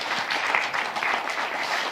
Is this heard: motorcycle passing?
no